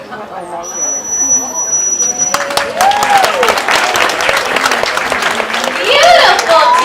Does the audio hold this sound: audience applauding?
yes